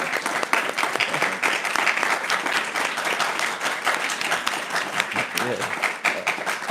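A large audience at a Bhakti spiritual gathering gives a massive round of applause, with dense, steady clapping that fills the whole stretch at close, loud level and stays sustained throughout.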